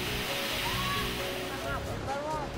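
White water of the Dora Baltea river in the Aosta Valley rushes in a dense, continuous roar, with thin gliding tones drifting over the steady flow.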